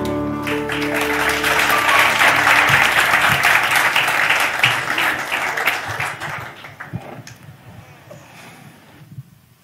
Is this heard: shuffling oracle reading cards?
no